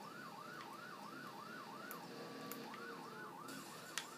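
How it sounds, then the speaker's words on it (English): A wailing emergency siren in the Driver San Francisco video game rises and falls in a steady, regular cycle. It breaks off briefly and then resumes, with faint clicks and a small knock near the end. "Can't you hear the sirens?"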